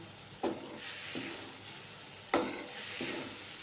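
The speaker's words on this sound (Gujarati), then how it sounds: "હવે આપણે આને તેલમાં થોડીક વાર સાતળવા દેશું" Vegetables sautéing in oil in a pressure cooker, a soft continuous hiss and sizzle with two sharp clinks of stirring, close and fairly quiet, no talking.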